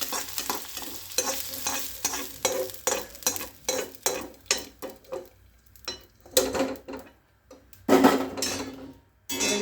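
Sautéed onions are scraped into cooked dal for a sambar, then stirred with a spoon against the pot; close, uneven clinks and scrapes with a faint sizzle, and no talking.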